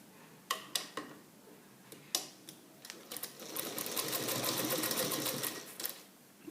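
A sewing machine stitches a kurta placket to the front of the garment, starting with a few separate ticks and then running into a steady, close mechanical whir.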